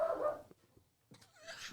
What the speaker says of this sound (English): Don't be barking.